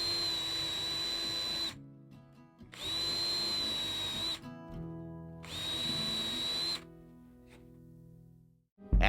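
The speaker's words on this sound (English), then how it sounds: "Just drill right down to that black line." A power drill bores a hole down to a marked depth line in three separate bursts, each about one and a half seconds long with a steady high whine, loud and close, with short pauses between them.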